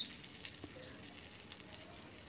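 Soybean kurkure sticks, thin rolled strips, frying over high heat in hot oil, giving a steady close sizzle and crackle throughout with no talk.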